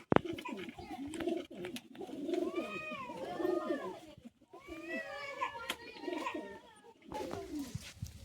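Pigeons coo in a busy Uluberia pigeon market, their soft bubbling calls overlapping with nearby chatter and children's voices, with a bird call or two rising above the crowd noise.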